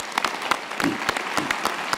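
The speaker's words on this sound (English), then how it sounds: "a special round of applause for Professor Jita is deserved." Applause from the audience at a university winter graduation ceremony, dense clapping with distinct sharp claps standing out near the front, loud and continuous, with a brief murmur of voices underneath.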